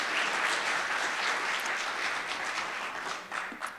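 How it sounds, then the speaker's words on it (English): An audience at an evening talk claps for the event's sponsors in a dense, steady round of applause that slowly tapers toward the end. "Can everyone please give our sponsors a round of applause who made this evening possible?"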